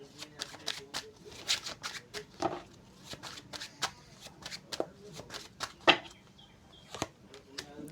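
Tarot cards being shuffled by hand: repeated crisp riffling and flicking bursts in an irregular rhythm, close and clear, with a quiet voice speaking now and then.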